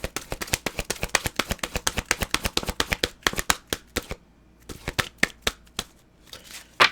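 Tarot cards being shuffled close up: a rapid run of crisp riffling snaps, then slower, scattered flicks after a short pause.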